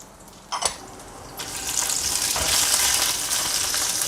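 Garlic cloves with red and green chillies fry in a pan for arai keerai spinach chutney, a couple of sharp utensil clinks opening into a building, steady sizzle.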